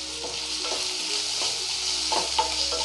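Green chillies and onions sauté in a pan, a steady close sizzle and fry with occasional stirring scrapes, continuous and fairly loud with no voices.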